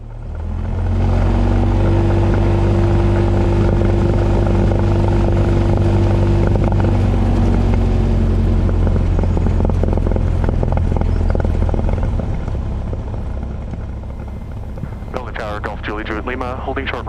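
Small plane engine droning steadily and loudly in the cockpit during a first solo flight, a constant low hum that shifts toward the end as a voice begins talking over it.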